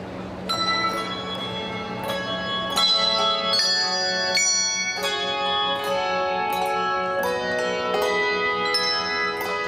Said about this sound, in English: the Woodson Handbell Choir honors America with the playing of our national anthem